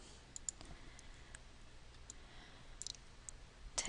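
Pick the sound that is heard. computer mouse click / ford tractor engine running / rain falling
computer mouse click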